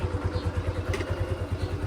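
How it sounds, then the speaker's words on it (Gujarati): A motorcycle engine freshly repaired and running at idle, a steady close-up puttering with even rhythmic pulses and no talking over it. "બાઇક ડન, ચાલુ કરી દીધી."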